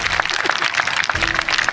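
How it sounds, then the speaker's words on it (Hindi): Audience applause at a political development-works event with Chief Minister Rekha Gupta in the Chhatarpur assembly constituency, a steady, dense patter of many hands clapping throughout, fairly loud and continuous. "मैं जोरदार तालियों से"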